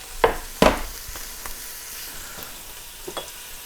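Grated ginger and sliced garlic cloves dropped into a hot pan for nettle soup: two sharp hits as they land, then a low, steady sizzle with a few small clicks, close by and without speech.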